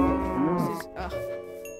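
Cows in a video game let out a deep, drawn-out moo and then a second shorter one, loud and close, with no talking.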